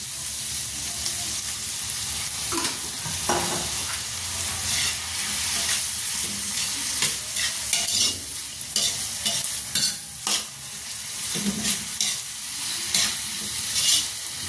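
Pancit toppings crisp-frying in a pan, with a steady hiss of hot oil and repeated scraping stirs, fairly close and soft, with no talk.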